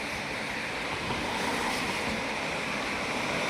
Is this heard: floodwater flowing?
yes